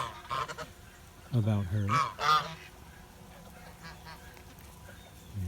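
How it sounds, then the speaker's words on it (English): Geese honk in the rain on a farm, two or three loud nasal bursts close by with quieter calls trailing after, and a woman's short word at the start. "Here's the Geese."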